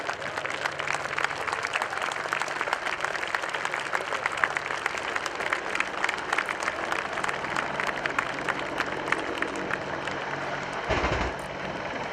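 Sustained clapping from an airshow crowd at RIAT 2015, Fairford, a dense crackle of many hands that carries on steadily, with a low mechanical rumble underneath.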